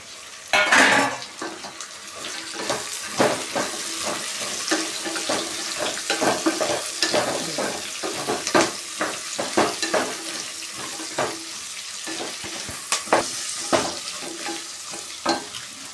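Carrots, beans, cabbage and peas frying and being stirred in a pan, with steady sizzling and frequent scraping and clinking of a utensil against metal.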